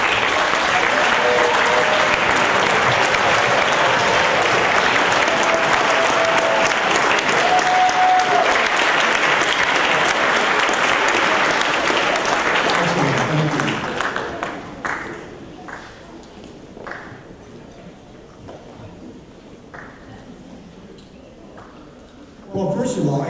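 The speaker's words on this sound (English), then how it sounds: "we want to give you a round of applause" A school board meeting audience gives a long, dense round of applause for the students' parents and relatives, loud and sustained for about thirteen seconds before fading to scattered claps and room noise.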